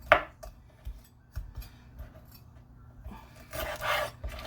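Knife work on a green pepper at a home kitchen counter, with a few scattered cuts and taps of the blade on the board and a denser scraping burst near the end, close and moderately quiet, with no talking.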